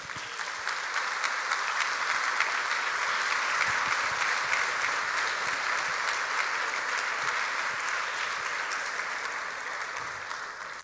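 Sustained applause from a church congregation during a sermon, a dense, steady wash of many hands clapping that holds for the full stretch and eases slightly near the end.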